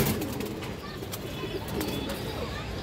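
Bagha pigeons coo softly and continuously in a loft or market setting, a dense murmuring bird chorus heard alone without talk.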